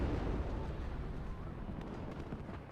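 A unit opening fire in the WARNO war game: dense, continuous booming rumble of heavy fire, loud and unbroken for a few seconds with no voices over it.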